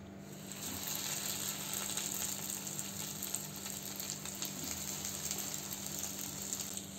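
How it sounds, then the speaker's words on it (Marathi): Round bread slices fry in hot oil in a frying pan, a steady, close hiss and sizzle that holds evenly throughout, with no voices. "इकडे मी एक फ्राय पॅन घेतला आहे, त्याच्यामध्ये तेल गरम करत ठेवलं आहे। त्याच्यामध्ये आपण आता ब्रेड घालून घेऊ।"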